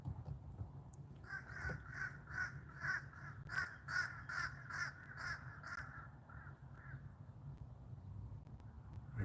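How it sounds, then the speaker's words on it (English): Several crows caw in a steady series of harsh calls as they fly over a quiet outdoor spot in Jersey, the calls clear but moderately distant over soft background ambience. "And we have like 4 crows flying over."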